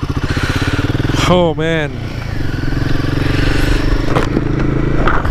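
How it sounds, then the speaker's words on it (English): A Royal Enfield Himalayan 450 motorcycle engine runs close by with a steady throbbing idle, rising in one quick rev blip and settling back to idle, while a person briefly speaks over it. "So start the bike."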